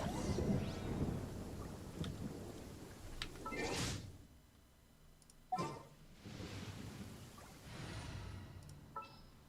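Rain and thunder in the video game Genshin Impact: a steady wash of rainfall with soft rumbles and a few sharper cracks of thunder, moderately distant and fairly quiet, with no voices.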